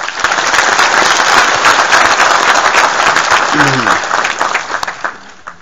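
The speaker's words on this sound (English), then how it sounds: "I'd ask you to give Brian a round of applause" A crowd at a ceremony gives a loud, sustained round of applause for Brian, the many hands blending into a dense wash that fades near the end, with a brief voice partway through.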